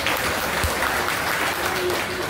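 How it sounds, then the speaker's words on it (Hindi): A crowd at a speech event gives a burst of loud, continuous applause to welcome a speaker, with the clapping dense and even for its short length. "एक बार जोरदार तालियां हो जाए सर के लिए।"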